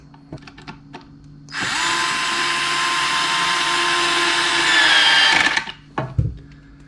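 A WORX WX242 cordless screwdriver drives a screw in second speed, its motor whirring steadily for about four seconds between light handling clicks before and after.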